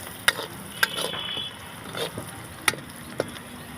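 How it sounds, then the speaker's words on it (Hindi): Cooked yellow mustard greens are stirred into a frying spice masala in a village kitchen, with several sharp spoon scrapes and knocks against the pan over a soft, quiet sizzle. "इसमें हम ऐड कर देंगे अब साग, जो कि हमने पहले ही इसको पका के रखा हुआ है।"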